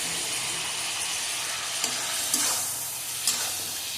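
Ginger garlic paste spits and sizzles in hot oil in a pan while mutton and cabbage curry cooks, a constant close frying hiss with a few soft stirring knocks.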